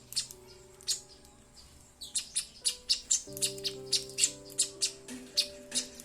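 Many small birds chirp in quick, regular bursts close by while eating feed, over a soft background of steady tones.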